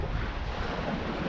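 Steady rush of wind and sea wash around a sailboat on autopilot at about 4.5 knots in 10 knots of apparent wind, with continuous wind buffeting on the microphone and no voices.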